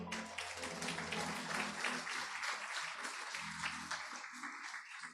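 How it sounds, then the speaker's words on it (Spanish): A church congregation applauds together in a steady wash of clapping that holds for several seconds and then eases, with a low murmur underneath. "Aplauso para el Señor."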